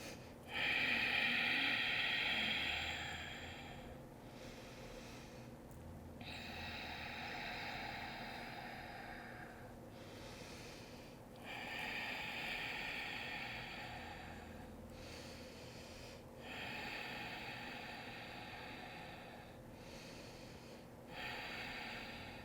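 Slow, deep breaths during a yoga flow held in downward-facing dog, several long inhale-exhale cycles rising and falling in a steady rhythm, close and moderately loud with no talking.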